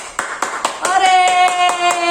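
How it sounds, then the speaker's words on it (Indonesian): Children at a kids' church service clap hands in a steady rhythmic beat, close and distinct, as a voice starts speaking or singing over the later claps. "Ibu mau kasih tepuk tangan dulu."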